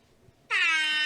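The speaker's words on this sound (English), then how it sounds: "That just gets a lonely air horn." A single lonely air horn blast bursts in after a near-silent moment and holds steady, loud and alone, as a comic sound cue on a talk show.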